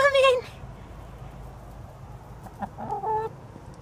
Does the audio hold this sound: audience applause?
no